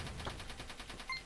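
A bomb in the Catacomb Snatch video game is shot at with a quick, evenly spaced stream of faint, rapid-fire shots pulsing steadily over a short moment.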